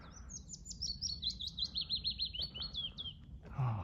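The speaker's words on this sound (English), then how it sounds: "That's a willow warbler. It's just arrived recently." A willow warbler sings a clear descending cascade of sweet, high notes from a treetop, one full phrase close and distinct over faint low background noise, with a brief rustle at the end.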